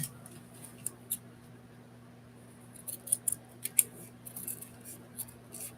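Small dull scissors snip cloth in short, crisp clicks, a few isolated cuts then a quicker cluster of snips, close and quiet against a steady low hum.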